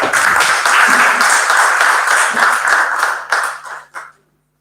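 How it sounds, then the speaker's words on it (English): A round of applause at an unveiling function, close, loud clapping from a group that holds steadily for about three seconds, then thins into a few scattered claps and stops abruptly. "Let's give her one round of applause."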